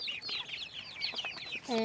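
Farm chickens cluck in a quick run of close, bright calls that repeat steadily for a couple of seconds, with no voices.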